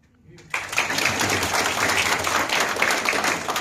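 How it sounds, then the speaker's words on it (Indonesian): Lively applause breaks out abruptly after a brief quiet start at an MOU ceremony in Bali honoring a representative, a dense, steady wash of clapping from a seated audience. "boleh kita berikan tepuk tangan yang meriah"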